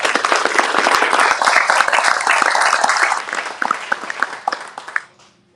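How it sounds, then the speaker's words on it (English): A ceremony crowd applauds loudly at the opening of a city homeless services center. Dense, close clapping holds steady, then thins into scattered claps and stops abruptly. "Round of applause for everyone."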